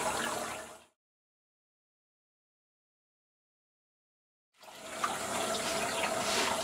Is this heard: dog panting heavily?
no